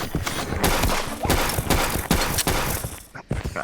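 Revolver gunfire in a video game comes as a rapid series of sharp, loud shots in an uneven burst, each crack closely following the last across the whole span.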